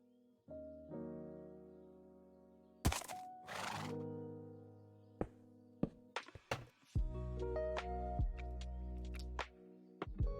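A horse neighs in Minecraft, a few distinct whinnies alongside scattered game thunks and clicks, with a sustained synthetic drone of game sound running underneath.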